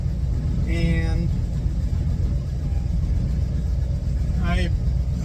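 A 1935 Ford engine runs with a steady low rumble, and a thin, high singing whine rises out of it twice, briefly.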